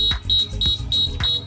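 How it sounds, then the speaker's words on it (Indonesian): An electronic buzzer wired together with an LED beeps in a steady rhythm, five short high-pitched tones about a third of a second apart, loud and close with no voices. "Ini saya kombinasikan, makanya ada buzzernya, tinggal tambah aja buzzer dia ke LED-nya"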